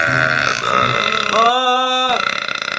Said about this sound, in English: I'm gonna try to stop the burps with tape again.